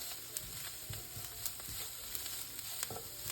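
Spices frying in a pan for a ravioli lasagna sauce, a steady quiet sizzle broken by scattered light scrapes and taps of stirring.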